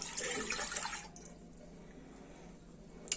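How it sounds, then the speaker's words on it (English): Milk pours from a measuring jug into a cooking pot for a cheesy pasta dish, a brief liquid splash lasting about a second that trails off into quiet room tone, with a small clink near the end. "So I've got 600 milliliters of milk in my measuring jug. Just pour that in."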